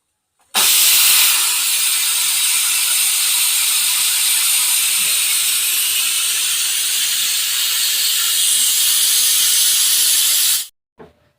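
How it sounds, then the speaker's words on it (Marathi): Loud, steady hiss of steam escaping from a pressure cooker boiling groundnuts, starting abruptly and holding for about ten seconds before cutting off. "आता चार शिट्ट्या झाल्यावरच आपण बघू आता तर बघा मी चार शिट्ट्या करून घेतल्या कुकरच्या आता आता आपण वाफ काढून घेऊ"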